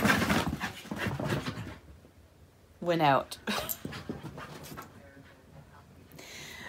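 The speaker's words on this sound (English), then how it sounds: "I'm so sorry if you hear my dogs" Dogs pant and whimper indoors, giving a breathy rhythmic panting and a brief high whine, close to the microphone, mixed with someone talking.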